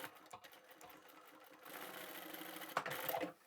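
A sewing machine stitches fabric for a small craft tote bag, running in short bursts with a brief backstitch, then a steadier, louder run of close-up stitching.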